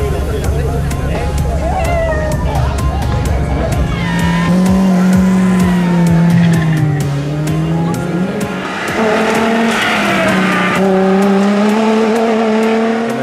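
An M1-class rally car competing at the 2016 Hirter Kärnten Rallye roars past at high revs, its engine note rising and falling through gear changes with tire noise and crowd chatter underneath, loud and continuous throughout.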